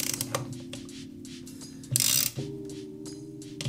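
Ratcheting clicks and mechanical whirring as the central screw is driven back into a BMW 7 Series engine part, with a loud burst of tool noise in the middle, close and without talk.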